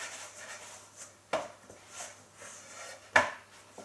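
Pizza dough mixed by hand in a bowl: soft, close rubbing and squishing strokes, with two sharper knocks against the bowl partway through, and no talking.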